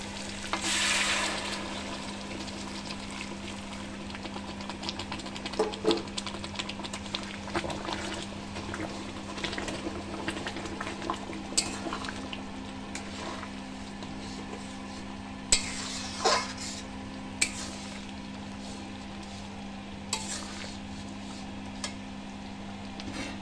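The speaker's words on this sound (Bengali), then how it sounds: "এবার আমি জল দেব। জল মিন্স আমি এখানে উষ্ণ গরম জল করে রেখেছি সেটা দেব।" Meat curry frying in a pot with warm water being added, a continuous close sizzle and bubbling hiss with a steady low hum, punctuated by scattered stirring scrapes and clinks, no voices.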